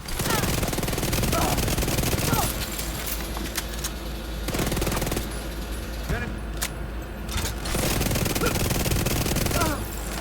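Enemy automatic gunfire in the video game The Division 2: dense, rapid bursts of shots that run through most of the stretch, briefly thinning in places, with a person talking over the shooting.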